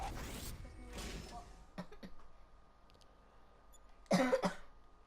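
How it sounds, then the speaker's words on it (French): Several harsh coughs: a pair close together at the start, then a louder, rougher cough after a quiet stretch with faint knocks. "Excusez-moi si je tousse"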